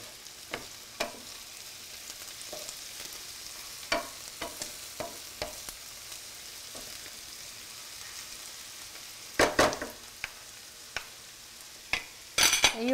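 A pan of food for stuffed peppers sizzles in a soft, continuous hiss, broken by scattered clicks and scrapes of a utensil stirring, with a few louder clatters near the end and no talking.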